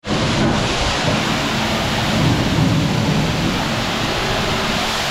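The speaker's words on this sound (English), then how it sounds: "And it's raining, but it's all good." Steady, dense hiss of rain fills the whole stretch, with a low rumble underneath and no voices.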